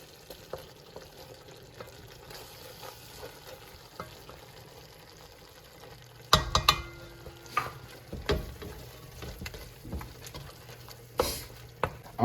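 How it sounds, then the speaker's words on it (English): Flour is whisked continually into a roux of butter and scallions for a cheesy chunky potato pie, a steady soft scraping patter with quiet sizzling underneath, louder clacks of the whisk against the pan in the second half. "I'm gonna mix continually to cook the raw flour, about 2 minutes"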